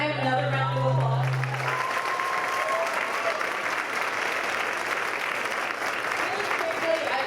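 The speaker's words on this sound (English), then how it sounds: "Can I have another round of applause?" Audience applause at a teen swimsuit competition, a sustained wash of many hands clapping from a crowd, loud and steady for several seconds, with a brief voice at the start.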